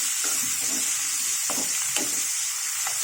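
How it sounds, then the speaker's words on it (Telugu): Mango and tomato pieces sizzle steadily in a hot pan for a coconut mango tomato chutney, a loud close hiss with a few soft stirring scrapes. "ఇప్పుడు మామిడికాయ ముక్కలు, టమాటా ముక్కలు వేసేసానండి"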